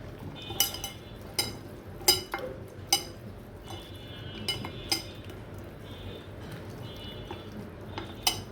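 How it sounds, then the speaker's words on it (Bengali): Pieces of a large rohu fish being mixed by hand with salt and chili powder in a dish, with scattered sharp clinks and knocks against the bowl over a soft, wet rustle. "মাছটি এখানে লবণ মরিচের গুঁড়া দিয়ে আমি এখন মাছটি মেখে ফেলব।"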